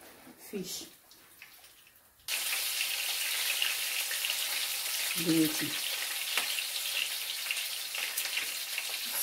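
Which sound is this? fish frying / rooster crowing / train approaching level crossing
fish frying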